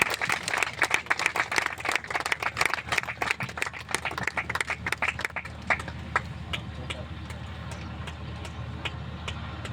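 Audience applause at a Christmas program, dense rapid clapping for the first half that thins into scattered claps over a low steady hum and background chatter.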